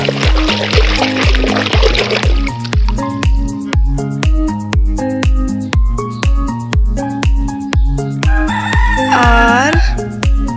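A rooster crows once near the end, a loud drawn-out call over a steady repeating rhythmic beat that runs throughout.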